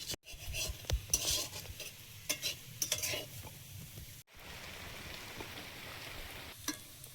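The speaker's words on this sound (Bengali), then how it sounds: "আলুগুলো আমার ভাজা হয়ে গেছে, এবার প্লেটে তুলে নেব" Potatoes frying in a pan during home cooking, a steady sizzle running throughout with clinks and stirring scrapes of a utensil in the first half, close and moderately loud, no speech.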